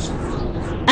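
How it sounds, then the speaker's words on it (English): A large bird caws loudly in an animated scene, a sharp burst arriving at the very end after a stretch of low background sound. "Look, there's a whopper of a bird coming our way."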